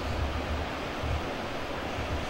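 Swollen Yoshino river rushing hard at night during a typhoon, a loud, constant broadband roar of churning water with wind buffeting the microphone, no voices.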